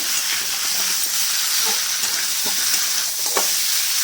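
Mutton frying with spices, a loud close hiss and crackle while a spatula stirs, scraping and tapping the pan at irregular intervals.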